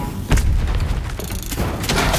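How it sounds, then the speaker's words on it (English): Bombs explode in the video game Raiders of Blackveil, a string of heavy booming thuds rolling close together over about two seconds, loud and dense with low rumble. "throw your bombs at me"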